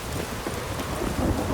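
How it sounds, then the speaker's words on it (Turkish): Heavy rain and rumbling thunder in a Witcher 3 game storm, a steady dense downpour with low thunder swelling near the end, no voices. "Fena yağmur yağıyor ya"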